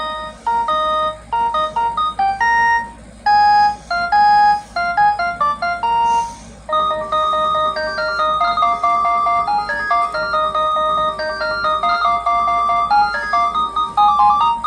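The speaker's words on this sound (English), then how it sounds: "this one has monophonic ringtones" A loud, bright monophonic ringtone plays a bouncy beeping melody of single tones, pausing briefly between phrases before continuing steadily.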